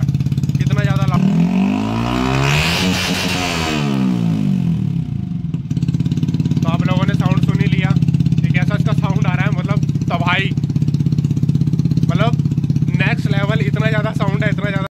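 A Yamaha R15 V3 motorcycle fitted with a modified full exhaust system idles close and loud with a deep, steady, throbbing drone, while someone speaks over it.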